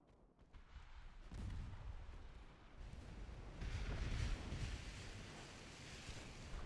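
Heavy naval gunfire from warships in the game Ultimate Admiral: Dreadnoughts, firing on heavy cruisers: deep rumbling booms and roaring blasts swell over a noisy, surf-like wash, strongest near the middle, with no talk.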